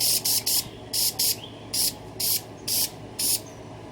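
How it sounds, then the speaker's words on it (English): An aerosol can spray paints a cup in short, sharp hissing bursts, about eight in an uneven rhythm, close by, over a steady low background hum. "how I get my cup spray painted."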